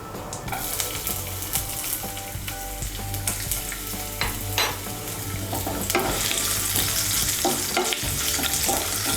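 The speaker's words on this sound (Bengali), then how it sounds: "রসুন কুচিটাকে আমি হালকা একটু ভেজে নেব" Chopped garlic sizzles steadily in hot oil over a spice tempering for a Bengali yogurt chickpea dish, with occasional scrapes and taps as it is stirred in the pan, loud and close throughout.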